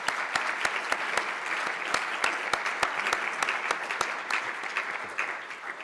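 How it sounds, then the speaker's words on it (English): A conference audience at a closing plenary applauds steadily, dense clapping with sharp individual claps standing out, sustained at moderate level without talk. "if you could please give Demetrios a round of applause"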